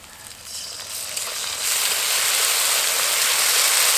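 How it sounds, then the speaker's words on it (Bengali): Ginger-garlic paste sizzles in a hot pan for a village-style greens dish, a steady close frying hiss that swells after the first moment and holds loud, with no voices. "এবার আদা রসুন বাটাটা কিছুটা ভেজে নেব"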